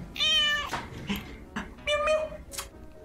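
A cat meowing in the video game Summer of '58: two or three clear, close meows spaced across a few seconds, with brief soft noises between them.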